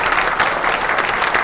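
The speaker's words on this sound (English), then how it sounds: "applause and cheers were all to see and hear" Applause at a North Idaho College special board of trustees meeting, a brief burst of dense, steady clapping from a room of people, loud and continuous across the moment.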